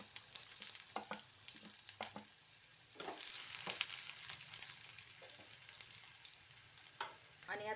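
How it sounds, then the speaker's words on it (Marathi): Mustard seeds, curry leaves and onion sizzle in hot oil with a constant hiss, broken by sharp crackles and popping bursts, and a louder wave of sizzling when the onion goes in; the sound is close and unvoiced. "मोहरी तडतडली की त्यात कढीपत्ता घालून घ्यायचा आणि मग कांदा घालायचा"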